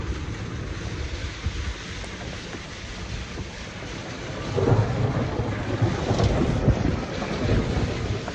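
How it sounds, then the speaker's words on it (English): Thunder rumbles over heavy rain and gusting wind on a golf course in Prescott, Arizona during a thunderstorm. The roar swells louder partway through, with wind buffeting the microphone and no talk. "Thunder and lightning."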